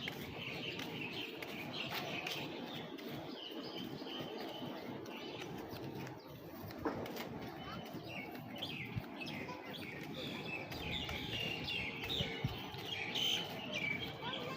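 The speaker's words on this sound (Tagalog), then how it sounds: "Saka pakinggan nyo na lang yung mga ibon." Small birds chirp and tweet in scattered bursts in a quiet beach resort garden in Phuket, Thailand, with faint clopping and a soft voice in the distance.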